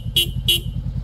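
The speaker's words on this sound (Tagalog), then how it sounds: "Sa busina, ang kinabit natin is Denso compact horn." A Denso compact horn fitted to a Honda CB500F motorcycle gives two short, sharp honks close by over a steady idling engine.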